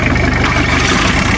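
Audi A3 Sportback engine idling steadily just after starting, a continuous close mid-low hum with no voices.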